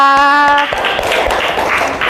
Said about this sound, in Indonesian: Tepuk tangan untuk Endita.